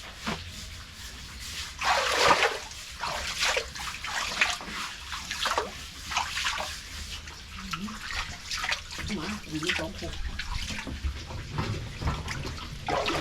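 Water drains away down a plug, gurgling and sloshing close by in uneven bursts over a steady trickle, with voices talking faintly at times.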